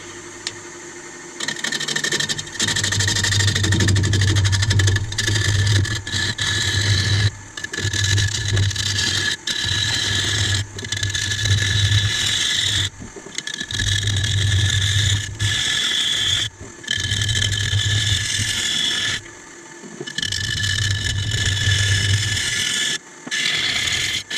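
Wood lathe spinning a laburnum bowl blank held on the chuck: a steady motor hum with a bright whirring overtone, running in repeated bursts broken by short pauses.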